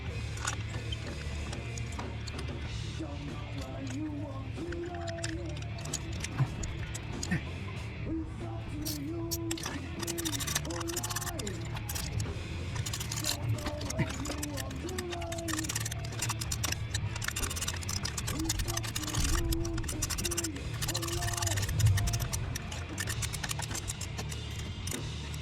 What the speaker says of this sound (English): Probably wrench it a couple times on one side, then the other.